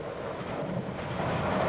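An ES 646 diretto train of the Ferrovie dello Stato runs through Butrio station on the Udine–Trieste line, a steady close rumbling rail roar that slowly swells with faint rhythmic clatter underneath.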